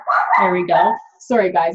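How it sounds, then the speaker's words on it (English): A pet dog barks in quick bursts at a home indoors, the yaps mixed closely with someone talking over them. "sorry for my dog"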